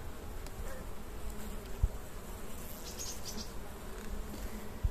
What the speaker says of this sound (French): Aussi aller voir l'essaim que j'avais fait.